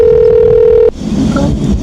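A telephone signals an incoming call with a loud steady electronic tone that holds for almost a second and then cuts off abruptly, leaving low background noise.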